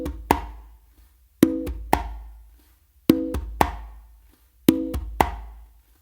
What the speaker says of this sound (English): what I actually do is an open and then a closed slap.